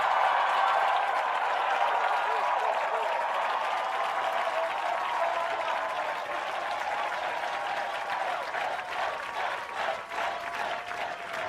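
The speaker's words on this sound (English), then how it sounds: "Would our newest members please stand up so we can applaud your work?" An audience at an end-of-camp performance applauds the newest members of the All-American Marching Band, sustained broad clapping that stays full and even, then thins slightly and turns more uneven toward the end.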